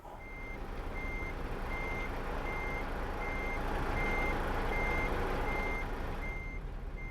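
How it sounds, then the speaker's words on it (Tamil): In Euro Truck Simulator 2, a truck's reversing alarm beeps at a steady, evenly spaced rhythm over a constant low engine rumble, with no one speaking. "இப்போ நம்ம வண்டியை எப்படி ரிவர்ஸில் எடுக்கணுமா?"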